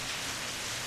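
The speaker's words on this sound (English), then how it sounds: "In less than a minute, the rain turns into a full downpour" A heavy rain downpour in the Steins;Gate visual novel makes a dense, even hiss of falling water that stays loud and constant throughout.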